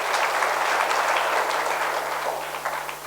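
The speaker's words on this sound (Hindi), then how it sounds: "ताली बजाइए।" Applause from a seated audience at a youth gathering, dense steady clapping from many hands sustained throughout and fading slightly at the end, with no talk over it.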